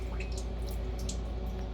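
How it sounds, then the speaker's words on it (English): Hydrosol dripping from a homemade still into a bucket, a soft, steady trickle of drops over low background hum, faint and close, no voices. "And then that drips down into this bucket"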